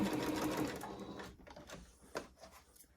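A sewing machine back-stitches across a seam, a steady whirring run that slows and stops, then a few quieter clicks and taps nearby.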